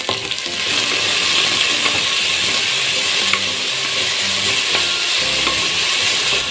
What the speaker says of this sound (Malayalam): അപ്പോൾ നമ്മുടെ സവോള ഇത്രയും ഒന്ന് വഴന്ന് കിട്ടിയിട്ടുണ്ട്, ലൈറ്റ് ബ്രൗൺ കളർ ആയിട്ടുണ്ട്.